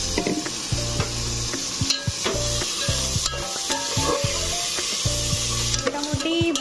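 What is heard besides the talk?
food frying and sizzling in a pan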